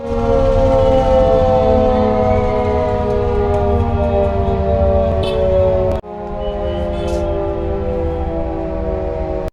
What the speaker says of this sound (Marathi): अकरा वाजून दोन मिनिटांनी ते अकरा वाजून तीन मिनिटांनी सायरन वाजविण्यात आला